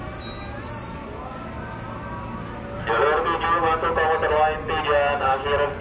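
A KRL commuter train pulls into Manggarai station, its wheels and brakes setting up a loud, sustained metallic squeal and rumble that begins partway through and builds over steady platform hubbub.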